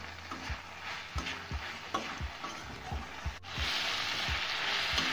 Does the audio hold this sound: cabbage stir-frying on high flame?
yes